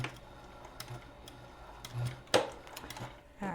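A sewing machine runs forward and back stitches along the edge of a minky tag blanket, giving faint intermittent ticking and clicking with a few sharper knocks in a quiet room.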